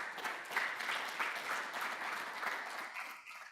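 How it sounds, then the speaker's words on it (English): Applause for panel members at a sustainable infrastructure financing forum rolls steadily through the room, moderately distant and fairly soft, fading slightly at the end. "A big round of applause to our panel members here"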